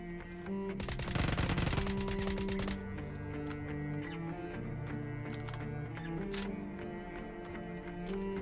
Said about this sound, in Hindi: और फिर मैं जैसे ही आगे बढ़ता हूँ तो एक बॉट फायर करता है।